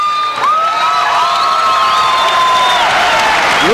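Boxing arena crowd in northern Florida cheering and applauding loudly, a dense sustained roar with whistles and whoops rising over it, continuous and close throughout.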